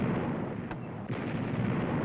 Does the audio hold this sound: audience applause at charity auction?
no